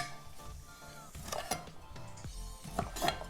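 A knife knocks and clicks against a board while slicing smoked sausage into chunks at a Ninja Foodi Grill station, several quiet, irregular cuts close by.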